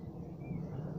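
Thunder from a storm over Gainsborough, heard as a steady, low, continuous rumble that stays fairly quiet and distant throughout, with no sharp crack.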